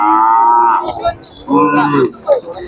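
A young bull at a cattle market lets out a loud, close moo, then a second shorter moo with some brief harsher sounds.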